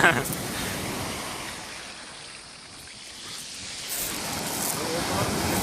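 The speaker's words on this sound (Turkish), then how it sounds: "Dalgaları çek." Broadband wash of sea surf rolling in and out at a campsite in Akyaka, Turkey, swelling at the start and end with a quieter lull between, under steady wind noise.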